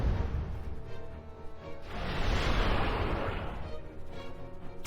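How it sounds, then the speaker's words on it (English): Missiles launched from a battle station in the Master of Orion video game, a low rumbling barrage swelling into a broad roaring blast around the middle, then fading into a lingering rumble. "Firing missiles."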